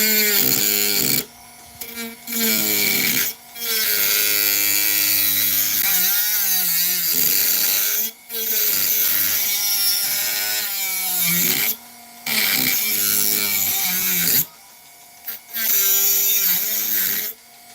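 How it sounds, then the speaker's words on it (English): A Dremel-style rotary tool works wood in a timber art workshop, its whine rising and falling in pitch as it bites, running in long bursts broken by short pauses. "this is sort of a Dremel"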